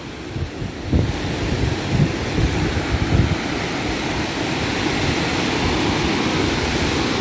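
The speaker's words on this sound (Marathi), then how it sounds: "त्या बघा ज्या लाटा येत आहेत ना त्या एकदम सलग येत आहेत लाटा." Sea waves roll continuously onto a beach at Ganpatipule, a broad steady surf roar mixed with gusting wind noise on the microphone, a few heavier wave surges standing out early.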